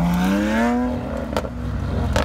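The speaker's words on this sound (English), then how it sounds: "Those Lamborghinis just sound so good. Listen to the pops." A brand new Lamborghini SVJ's engine sweeps up in pitch, then its exhaust lets out two sharp crackling pops, loud and close with no talking.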